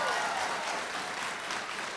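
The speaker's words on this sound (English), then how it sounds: "Give her a round of applause." A crowd at a political rally claps in a dense, sustained burst of applause, fairly loud and even throughout.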